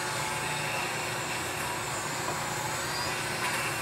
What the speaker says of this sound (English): I use this little mop on my Dremel